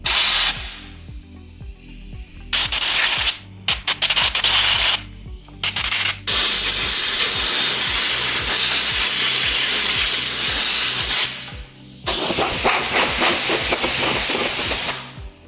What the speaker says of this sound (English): Then you're gonna take your air gun and you're just gonna spray out the top of the fan here.